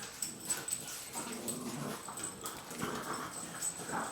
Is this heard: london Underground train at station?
no